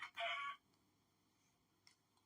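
A rooster in a video game gives one short, bright crow at the start, followed by near silence and a faint click.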